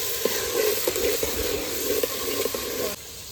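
Onions fry in a pan with a continuous moderate sizzle and light scattered crackles that cut off abruptly near the end.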